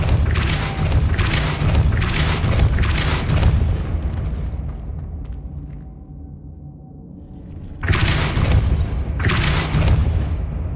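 A Depulso spell blast in the Hogwarts Legacy video game. Loud, rumbling booms repeat at a steady rhythm, then a quiet lull follows before two more heavy blasts close the passage.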